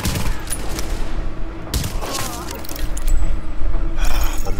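Bursts of rapid gunfire crackle in a video game, loud and close, repeating in clusters over a low rumble with faint speech underneath.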